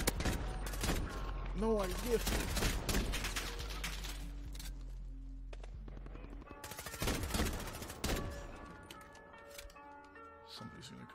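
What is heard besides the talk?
Desert Eagle pistol gunfire in Modern Warfare video game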